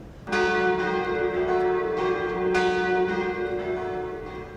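A large church bell rings out loudly, struck twice, its deep resonant tone and overtones lingering and slowly fading between strikes.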